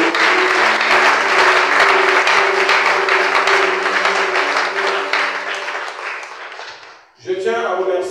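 A church congregation applauds and cheers for God in a dense, loud, sustained wave that gradually fades. A voice then starts speaking.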